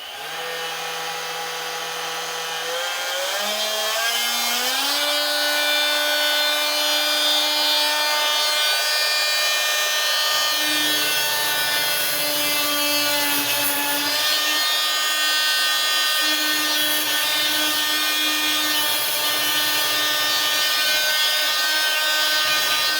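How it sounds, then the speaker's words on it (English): A power tool cuts a section off a rocket motor tube indoors, starting up and holding a loud, steady, whining drone for about twenty seconds as the pitch shifts slightly under load. "I need to cut a section of this off for the motor tube"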